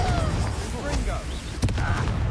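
A Confringo blasting spell erupts in Hogwarts Legacy with booming, rumbling blasts and crackling bursts, loud and close amid ongoing game sounds.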